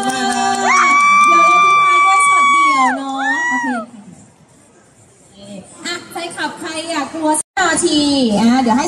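Crowd at a band's mall concert screaming, mostly high-pitched sustained shrieks that swell loudly, fade briefly, then return with whoops and shouts over scattered clapping and chatter.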